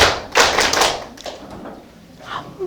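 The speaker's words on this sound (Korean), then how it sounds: "한 번만 쳐볼까요? 박수," A lecture-hall audience of Gyeonggi Province officials at a training session claps together, a burst of dense hand claps near the start tapering into scattered thuds and a faint voice.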